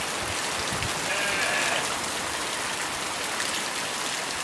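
Heavy rain shower pouring down over a cornfield, a dense steady hiss that stays loud and unbroken throughout, with no voices.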